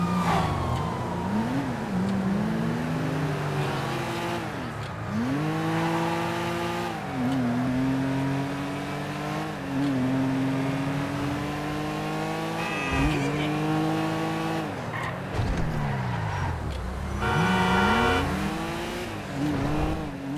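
Four-door car driven fast in the video game GTA V, its engine revving up and down through repeated gear shifts with occasional tire squeal, continuous and close without any talking.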